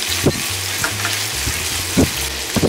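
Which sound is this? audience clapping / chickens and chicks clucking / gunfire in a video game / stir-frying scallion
stir-frying scallion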